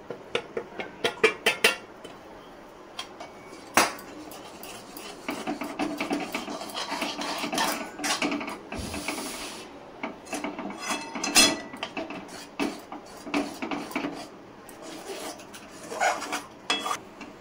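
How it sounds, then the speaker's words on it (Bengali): A sweet sandesh mixture is poured into a pan over a low flame and stirred, giving a long run of scraping, clinking and rubbing strokes against the pan, close and steady, with a few sharper knocks early on. "এবারে এগুলোকে ঢেলে দেবো, মিশিয়ে নিই।"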